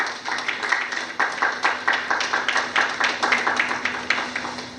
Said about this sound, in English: Please, a round of applause for her.